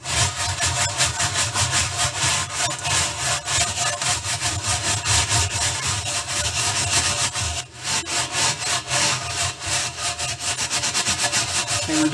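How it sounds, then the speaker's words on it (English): A metal water drum scrubbed to lift turpentine-soaked paint, loud close rapid back-and-forth rasping strokes repeating steadily and almost without break, no talking. "Then scrub over the container"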